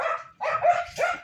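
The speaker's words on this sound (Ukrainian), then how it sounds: "Ой, собака дурнувата." A dog in a farmyard near a chicken coop gives three quick, close barks in a short burst, each sharp and yappy with a brief gap between.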